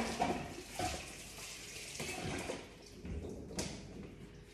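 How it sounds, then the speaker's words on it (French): A canvas baking cloth is rinsed under a running tap, giving a steady close splash and gush that shifts in intensity as the fabric moves through the stream, with a few louder splashy bursts and no speech. "Je vais juste vite rincer ma toile."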